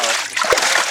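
Caught crappie thrashing in water, a short busy splash and slosh up close, loud and continuous for under a second.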